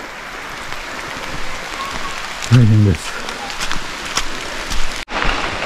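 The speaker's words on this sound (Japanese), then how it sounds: "雨ひどいです。" Heavy rain pours steadily during autumn foliage season in Niseko, Hokkaido, with a brief voice speaking partway through and a short sharp gap near the end.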